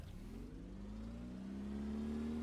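A vehicle engine in the Brick Rigs building game hums and revs up steadily, its pitch climbing as it pulls away, fairly quiet with no talk.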